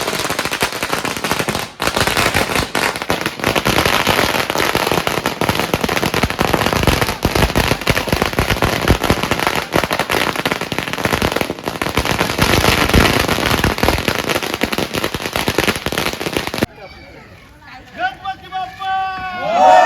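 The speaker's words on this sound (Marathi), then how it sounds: "आता इकडे फटाक्यांची माल पण लावलेली आहे." A long string of firecrackers bursts at a village temple during a village cricket premier league celebration. The crackle is loud, dense and machine-gun fast for about sixteen seconds, then cuts off and voices are heard.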